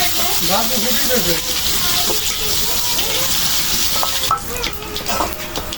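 Garlic frying in hot oil in a pan, a continuous loud sizzle with scraping stir strokes and spoon clinks near the end, heard up close.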